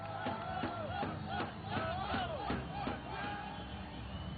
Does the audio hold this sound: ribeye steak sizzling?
no